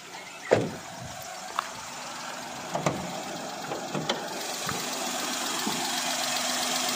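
A used Maruti Alto idles with its bonnet open, a low steady engine hum under scattered sharp knocks and clicks close by, and no one talking.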